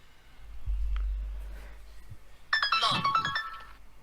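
A phone ringtone chimes in a bright melodic pattern at moderate volume, preceded by low background hum and faint murmuring.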